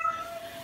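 A cat in heat lets out a single short, faint yowling meow, thin and drawn out, heard alone in a quiet indoor space.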